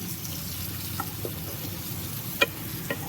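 Onions and capsicum being lightly stirred in a frying pan give a soft, steady sizzle with a few faint scrapes and one sharper clink, quiet and close, with no talking.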